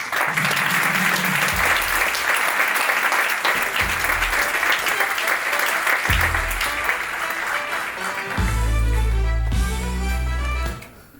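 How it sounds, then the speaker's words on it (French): Warm audience applause at a conference, loud sustained clapping from a crowd that carries on for several seconds, with a low musical tone underneath, before tapering off. "Je vous demande d'applaudir très chaleureusement Asdine El Hadouchi."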